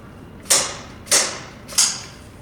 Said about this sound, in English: Press down on the leg marbles and adjust to the right height.